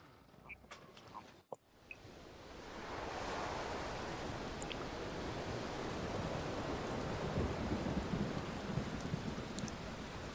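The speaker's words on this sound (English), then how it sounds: "It's raining." A few faint clicks and taps give way to steady, heavy rain that builds and stays loud, with a low thunder rumble underneath, in the video game Pyre.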